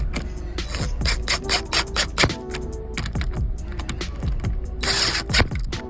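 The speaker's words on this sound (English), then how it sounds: "Throwing them in with this impact driver." An impact driver runs 10 mm bolts into a car quarter panel in a string of loud, close, rattling hammer bursts with short pauses between them.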